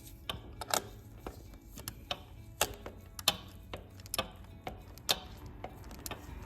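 A Blue Point fine-tooth ratchet turning a lock nut on Mikuni carburetors for a Ducati: quiet, close clicking in short irregular bursts of sharp ticks, with no talking.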